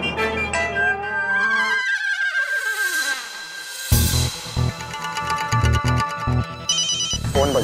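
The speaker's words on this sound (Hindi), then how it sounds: "फोन बज रहा है।" An electronic phone ringtone rings in repeated bursts, loud and close, with a melodic trill that warbles over a low rumble and brief background noise.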